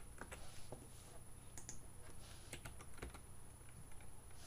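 Quiet keystrokes tap on a computer keyboard as F4 is pressed to run a C++ program, a scattered series of soft clicks over faint room hiss.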